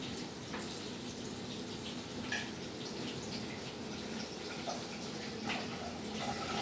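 Paneer rinsed under a running kitchen tap, a steady close rush of water with light splashing and drips, no talking.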